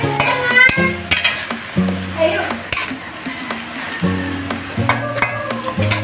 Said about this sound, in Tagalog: Haluin muna natin mabuti.